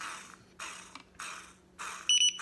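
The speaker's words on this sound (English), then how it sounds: "And then it beeps" Short electronic beeps sound near the end, a couple of quick high tones standing out over a faint background hiss and soft handling noise.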